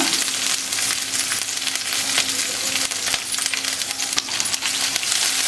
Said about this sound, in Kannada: ಈರುಳ್ಳಿ ಒಂದು ಸ್ವಲ್ಪ ಫ್ರೈ ಆದಮೇಲೆ ಕೊತ್ತಂಬರಿ ಸೊಪ್ಪು ಹಾಕೊಂಡ್ಬಿಡೋಣ